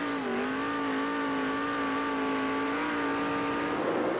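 Sprint cars racing at the Knoxville Nationals on a dirt oval roar together as a pack in one steady, loud, high-pitched engine drone with slight pitch shifts as they go through a turn.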